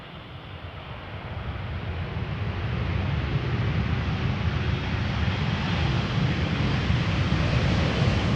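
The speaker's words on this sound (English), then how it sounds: "Dreamliner from Las Vegas" A Boeing 787 Dreamliner arriving from Las Vegas at misty Amsterdam Schiphol produces a broad, steady jet roar that swells gradually over several seconds, heard from a distance with no voices.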